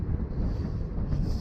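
Wind buffets a microphone on a selfie pole, facing the wind by the ocean, producing a constant loud low rumble and roar with no other sound breaking through.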